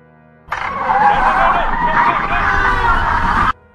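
Car brakes screech loudly for about three seconds, a wavering squeal that starts and cuts off abruptly.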